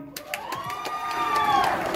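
Spectators at a water buffalo beauty contest in Chonburi, Thailand, judging young male buffalo, cheer and shout with scattered sharp claps, a lively crowd swell that grows louder toward the end.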